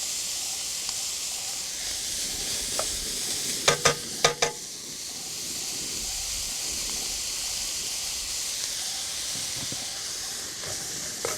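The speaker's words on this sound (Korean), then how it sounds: "당근과 양파를 넣고요. 충분히 볶아주고" Beef, carrots and onions stir-fry in a pan for a beef and mushroom porridge, giving a steady, close sizzling hiss throughout, with a brief burst of utensil clatter partway through.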